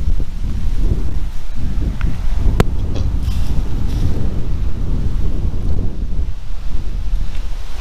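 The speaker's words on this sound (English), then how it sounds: "More wonderful wind, yay!" Strong wind blows outdoors, buffeting the microphone with continuous low rumble and gusts, with a brief sharp knock in the middle.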